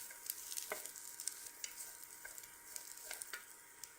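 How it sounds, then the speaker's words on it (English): Asparagus being stirred in molten butter in a pan, a faint, soft sizzle with light scraping and tapping as the spears are moved around, fairly quiet and free of speech. "So it gets evenly coated with the molten butter, and Stir it in for a minute."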